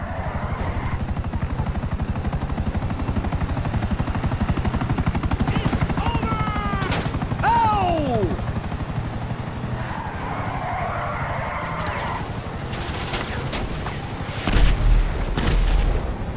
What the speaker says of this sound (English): Great! Another chopper!